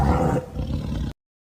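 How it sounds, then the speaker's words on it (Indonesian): A deep tiger roar, loud and close, rumbling for about a second before cutting off abruptly, with no other sound around it. "mulailah ada suara auman harimau mulai dari ruang tamu"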